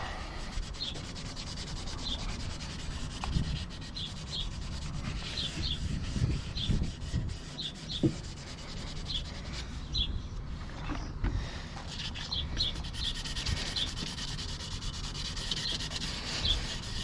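Cloth rubbing and wiping around the inner lip of a Mk1 Audi TT exhaust tip, a steady close scrubbing texture with soft rhythmic strokes continuing throughout, no talk.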